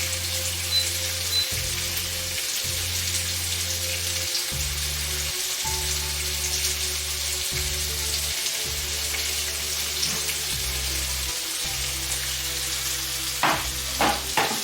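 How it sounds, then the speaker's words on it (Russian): Onions sizzle in a pan, a steady, close frying hiss that runs throughout. Intermittent low hums come and go beneath it, and a few light clinks sound near the end. "Обжаренный лук перекладываю к яблокам."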